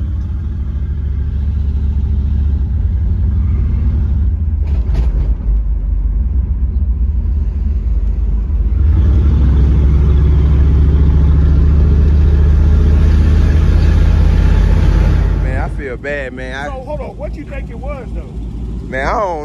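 An 83 Box Chevy and a 79 Malibu, both with 5.0 engines, roar through a street drag race with a loud, sustained engine rumble that swells and then drops off sharply near the end, as people talk over it.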